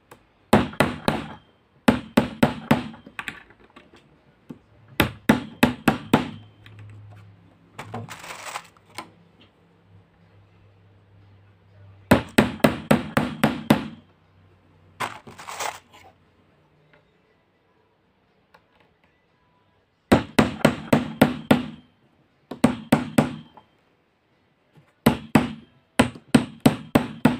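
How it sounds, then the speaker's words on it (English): A hammer drives nails into an MDF board for a garment weaving loom, in sharp, close bursts of rapid blows separated by pauses, with a low hum in the quiet stretches. "I'm nailing the MDF board for the garment loom"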